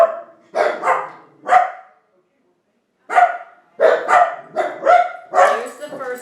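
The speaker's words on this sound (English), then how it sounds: "there's the dog walking away" A dog barks in short, sharp bursts indoors, several loud barks in two clusters separated by a brief pause, close by.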